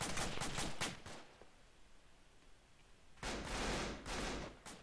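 Rapid bursts of Arma 2 gunfire crackle loudly, then fall quiet for about two seconds before another heavy volley of repeated shots erupts.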